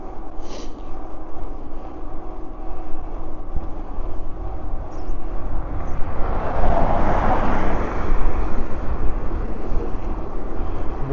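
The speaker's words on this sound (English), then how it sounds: "I got another car coming up behind me." A car approaches from behind on a road, its tire and engine noise swelling louder toward the middle and end over a constant rumble of wind and riding noise.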